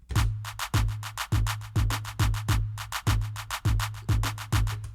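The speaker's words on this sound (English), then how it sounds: "I changed the clap out to this sound." Programmed drum loop with a swapped-in clap sound, the claps set at differing volumes, riding over deep sustained kicks and crisp hi-hats in a steady, driving repeating pattern, close and clear with no voices.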